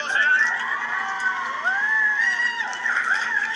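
An audience at a live talk event cheers and shouts continuously, with high excited voices and whoops blending into a steady, loud roar throughout.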